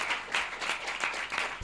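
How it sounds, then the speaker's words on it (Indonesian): A short burst of audience clapping at a cultural talk show event, steady, close and moderately loud, with individual claps rippling through a small crowd. "Tepuk tangan buat iDright."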